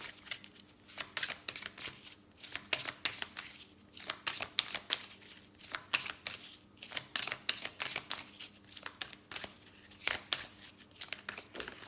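Tarot cards shuffled and drawn by hand, a long run of quick riffling, slapping card bursts in uneven rhythm, close and fairly quiet, with brief pauses between shuffles and no talking.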